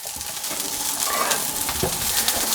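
Mini tortillas toasting in a hot pan for Japanese-style steak tacos: a continuous broad sizzle with light tapping and shuffling as pieces are tossed in.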